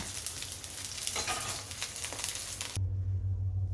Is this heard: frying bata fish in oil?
yes